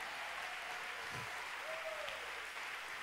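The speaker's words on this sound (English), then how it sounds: "put your hands together and magnify Him" A church congregation claps hands during a sermon at Dallas First Church, a faint, steady wash of clapping throughout the short stretch, with no voices over it.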